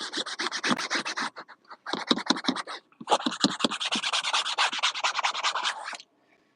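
Rapid back-and-forth rubbing of a cloth over a car headliner during cleaning, close and fairly loud, in three bursts of quick scrubbing strokes separated by short pauses, ending in silence.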